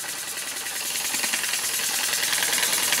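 Yellow Boy model steam engine running, a steady hissing exhaust with a fast light rhythmic chuffing and faint rattle, heard close and alone, growing slightly louder over the few seconds.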